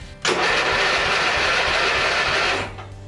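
A roughly 40-year-old vintage LongLife lawn tractor engine bursts into a loud, rough roar, holds steady for a couple of seconds, then cuts off abruptly.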